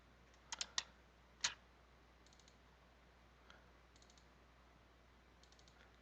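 A computer mouse clicking while working in SketchUp, a few quiet, crisp clicks close together early on, including a quick double click, then near silence with faint ticks.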